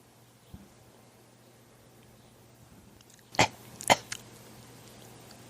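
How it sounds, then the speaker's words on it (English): A man gives a couple of short, sharp coughs close by in a quiet room, with a faint earlier knock beforehand. "He had a little COVID cough there."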